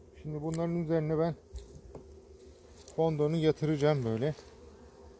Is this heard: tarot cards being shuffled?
no